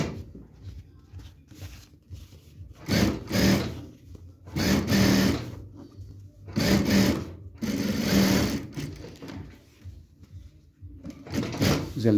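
Sewing machine stitching a double seam with three topstitch rows, several loud whirring bursts of stitching separated by quiet pauses, close and alone.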